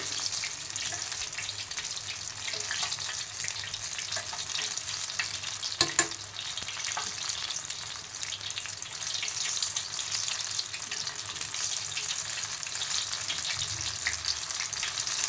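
Tomato bhaji deep-fry in oil over a low flame with a steady, even bubbling hiss and a few faint clinks partway through. The sound is close and continuous, and no one talks.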